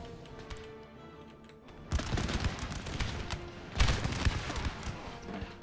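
Musket volley fire in the Napoleon Total War battle game with Darthmod, heard as rapid overlapping cracks and pops. The dense crackling breaks out after a quieter start, swells again near the end and is fairly loud.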